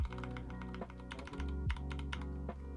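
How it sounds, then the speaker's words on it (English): Typing on a computer keyboard during a live coding stream, steady irregular key clicks up close over a constant low background hum, with no talking. "And it's just typing, right?"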